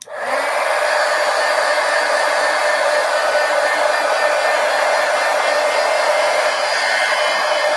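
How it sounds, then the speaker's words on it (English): A heat gun drying gouache paint blows a loud, continuous whooshing roar that starts abruptly and holds steady close by, with no talking. "Let's dry this. All right, heat gun."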